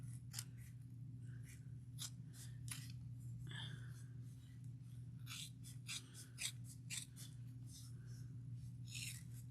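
Scissors trimming the fabric lining and zipper panel of a sewing-pattern tote bag give a series of close, crisp snipping cuts at an irregular rhythm over a steady low hum.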